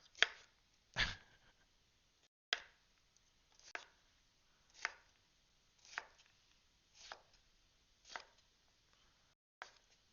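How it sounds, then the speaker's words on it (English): A knife chops through potatoes on a board in about nine crisp, evenly spaced strikes, close and clear against near silence. "Can you guys hear these fucking chops?"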